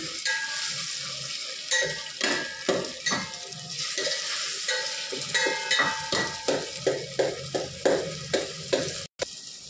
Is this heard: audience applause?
no